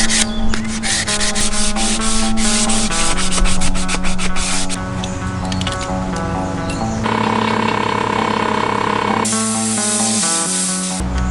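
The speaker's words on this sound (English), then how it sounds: "I'm gonna sand out my finishing strips" Wooden finishing strips for a school bus tiny home kitchen are sanded with a power sander, a loud, steady close-up buzz and rasp that shifts in tone and pitch as pressure and position change, with no voices.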